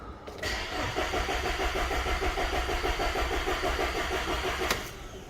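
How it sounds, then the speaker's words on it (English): A 2011 VW Tiguan engine cranking at length, a steady rapid rhythmic churn of the starter with no catch, heard up close and ending in a short click, no voices. "Long cranking."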